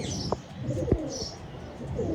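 Soft, low coos from a female pigeon sound against a busy background, with a few brief chirps and rustles nearby.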